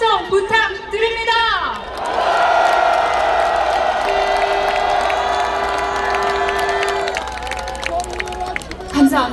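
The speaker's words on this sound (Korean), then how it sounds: "다시 한번 큰 함성 부탁드립니다" A large crowd at an outdoor political rally in Seoul calling for a special prosecutor and impeachment roars and cheers in a sustained swell. An amplified voice speaks before and after the shouting.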